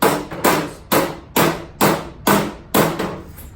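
A broad-head body hammer strikes the rusty edge of a Datsun 260Z hatch panel, seven evenly spaced sharp metallic blows with short ringing decay, loud and close, no voices.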